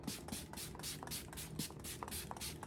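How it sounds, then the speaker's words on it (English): A handheld mist spray bottle is pumped at a face in a series of roughly ten quick, close, hissing bursts in a steady rhythm. "I'm gonna spray my face down a little bit."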